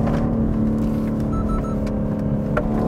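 A BMW M3 Competition driven through corners in third gear, a loud, steady engine drone with a constant low hum inside the cabin, no talk.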